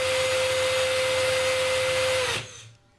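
A Milwaukee M12 Fuel 12V cordless drill runs at full speed with a steady high whine, close and loud, then cuts off and spins down into quiet near the end.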